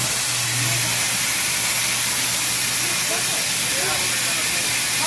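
A garment steamer aboard a Royal Caribbean cruise ship gives a loud, continuous hiss of steam that fills the whole stretch with no pauses.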